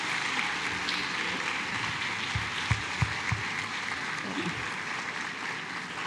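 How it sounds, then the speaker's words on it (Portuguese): Church congregation applauding during a Portuguese-language sermon, a steady wash of clapping across the whole stretch with a few louder low thumps near the middle and faint voices underneath. "Aplauda ao Senhor."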